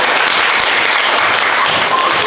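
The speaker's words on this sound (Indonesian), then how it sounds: "Ayo semua tepuk tangan." Audience applause after a presentation, a steady, loud, dense patter of many hands clapping together throughout, with no pauses or voices standing out.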